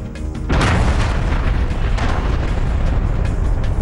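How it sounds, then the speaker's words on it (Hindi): A bomb blast set off by Delta commandos on a building sheltering a militant leader: one sudden, loud, close boom that turns into a long, heavy rumble lasting several seconds, with no voices. "डेल्टा कमांडोज ने यह धमाका उस इमारत पर किया जहां बगदादी ने पनाह ले रखी थी"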